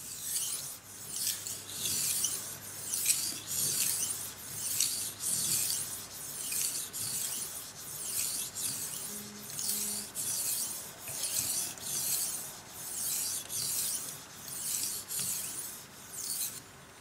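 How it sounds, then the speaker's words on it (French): A knife blade is polished on a 3000-grit sharpening stone in a guided sharpener, producing a soft, even rasp in about fifteen regular back-and-forth strokes, close and fairly quiet. "là je suis sur la 3000 de chez Swayro. Et puis bah là on va venir polir la lame"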